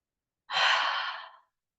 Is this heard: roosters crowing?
no